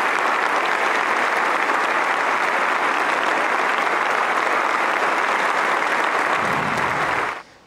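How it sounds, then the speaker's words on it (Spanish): An audience rises in a standing ovation at a national address in Ecuador, dense sustained applause filling the hall loudly and evenly before cutting off. "Les pido un fuerte aplauso de pie en agradecimiento a los verdaderos héroes del Ecuador."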